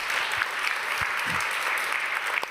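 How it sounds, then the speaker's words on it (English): Audience applause at a conference closing session for the event's organizer, a steady dense wash of clapping filling the room throughout, moderately loud and continuous without a break. "Let's give her a big round of applause"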